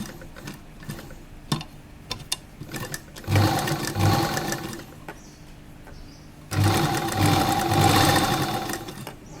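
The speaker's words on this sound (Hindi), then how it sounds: "गोलाई पे आप थोड़ी धीरे धीरे मशीन को चलाएं" An electric sewing machine stitching an A-line jacket dress with an inner collar: two loud, close bursts of fast, steady needle whirring, each lasting a few seconds, separated by softer clicks and handling of fabric, with no voices.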